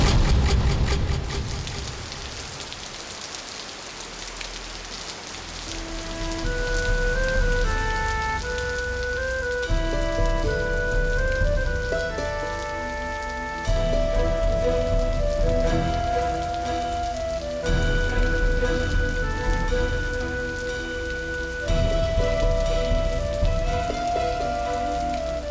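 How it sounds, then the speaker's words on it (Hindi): Heavy rain pours down steadily in a dense, constant patter, joined by soft tonal background music, with no voices. "अरे बहुत ही ज्यादा बारिश पड़ी है,"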